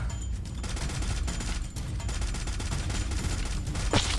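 Rapid gunfire in the Free Fire video game, a dense continuous burst of shots filling the whole stretch, loud and close, with a brief gap midway and a sharp sweep near the end.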